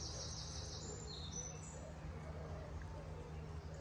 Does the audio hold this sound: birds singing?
yes